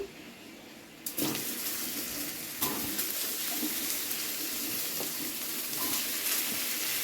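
Cauliflower florets dropped into hot oil for a Bengali katla fish curry, a sudden loud sizzling burst that settles into a steady crackling fry, with a second splash of sizzle shortly after.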